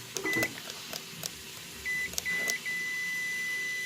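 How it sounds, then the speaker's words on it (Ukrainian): A Stark solar inverter with power applied gives off a series of short electronic beeps, several separate tones spaced irregularly over a quiet background with faint clicks. "Типу реагує, потім починає пищати."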